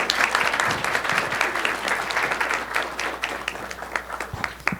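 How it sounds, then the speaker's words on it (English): A crowd applauds steadily for several seconds, dense clapping throughout that starts to thin toward the end. "I invite you to join me in welcoming David Radke with a round of applause"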